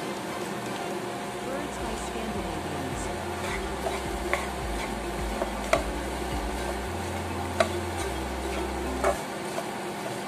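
Soya chunks masala is stirred and tossed in a pan over low flame, with a steady soft sizzle and repeated light scrapes and clicks of a spoon against the pan, all close up.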